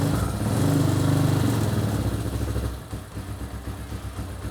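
A Hawk 250 motorcycle engine, a crashed bike under rebuild, starts and runs roughly, loud and close with uneven, lumpy firing that surges then drops to a ragged, stumbling idle.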